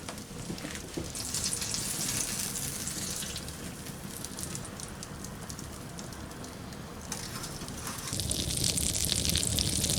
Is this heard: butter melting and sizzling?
yes